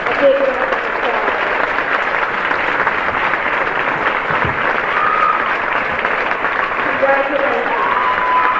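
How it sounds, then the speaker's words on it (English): An audience in a school gym claps for young players before a boys' basketball game, loud sustained applause filling the space from start to finish with a few cheers mixed in. "Let's give these nice young people a big round of applause."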